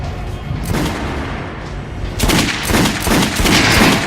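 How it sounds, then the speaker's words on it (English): Gunfire on a shooting range in the video game Metro: Last Light, with a few sharp shots early on, then a loud rapid burst of repeated shots near the end. "Try shooting for the center of the regular dummy's chest."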